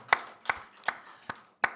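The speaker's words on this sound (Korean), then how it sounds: "우리 다시 한번 큰 박수로 주님께 영광의 박수 올려드리겠습니다" A church congregation at a Christmas thanksgiving service claps in unison: five sharp, evenly spaced claps at a steady beat, fairly close and clear, with no voices over them.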